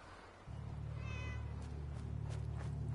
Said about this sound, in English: What is the cat doing over here?